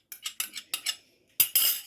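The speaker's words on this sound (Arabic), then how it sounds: "حطينا بقى شويه لبن على 3 معالق الزبادي اللي احنا حطاهم، بنقلبهم كويس" A metal spoon clinks repeatedly against a dish while stirring yogurt into milk for homemade yogurt: a quick run of separate taps, a short pause, then a longer scraping swirl, close and clear.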